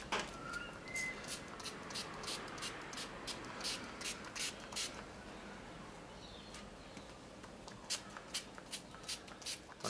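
Water repellent sprays onto an old slouch hat in a series of short, light hissing bursts, faint and close, with brief pauses between coats.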